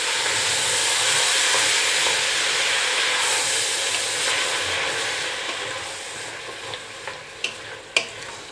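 Vegetables and a tin of diced tomatoes in juice are stirred in a soup pot, making a loud wet sizzle and hiss that slowly fades while a few sharp spoon knocks ring out against the pot.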